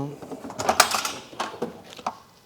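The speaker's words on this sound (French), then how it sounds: "Alors j'ai besoin d'un petit cliquet." A small ratchet wrench working a bolt on a DeLorean seat, giving quick close metallic clicks in short bursts, with someone speaking around them.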